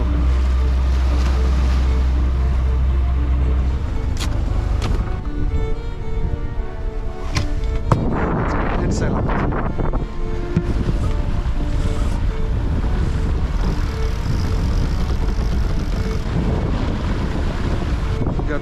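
A boat rounds the point of Nolsøy and heads straight out into the North Sea. Loud, steady wind buffets the microphone over a constant rush of waves and churning water, with no voices.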